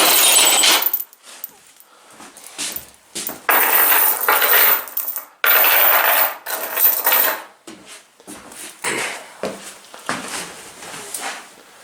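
Metal hoist chain links on a foldable motorcycle table clink and rattle in irregular bursts, with short clanks and scraping, close by and fairly loud.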